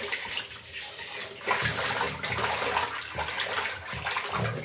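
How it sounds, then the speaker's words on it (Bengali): Water sloshes and splashes continuously in a basin as pangas fish are cleaned and the water is stirred by hand, close and fairly loud, with irregular surges. "তারপরেও পানি নাড়তে নিষেধ করছে পানি নাড়তে হবে"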